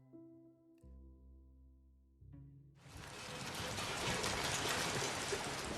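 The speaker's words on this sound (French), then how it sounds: "Le film s'ouvre sous une pluie battante." Heavy, pounding rain opens a Pixar Toy Story 4 film scene, arriving after a few seconds of sustained low musical tones and then rising into a dense, steady downpour that grows louder and fills the remainder.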